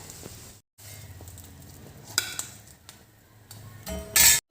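A layer dosa cooks on a hot dosa pan with soft sizzling and scattered ticks and light scrapes, ending in a louder burst of hiss near the end.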